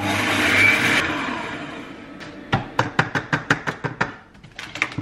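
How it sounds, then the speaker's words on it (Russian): A blender grinding sugar at maximum speed whirs loudly for about a second, then fades into a series of sharp rhythmic clacks and knocks as it slows and rattles. "Взбиваем буквально 10 секунд сахар в блендере на скорости максимальной."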